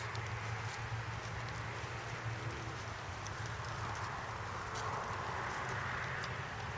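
Soft, faint hoofbeats of a horse walking at an easy pace under a steady background hiss.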